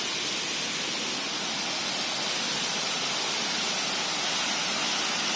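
Huai Mae Khamin waterfall in Kanchanaburi roars in a steady, dense, broadband rush of falling water, close and loud throughout with no voices.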